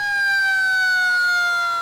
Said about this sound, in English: I like their sirens. I like the cop cars.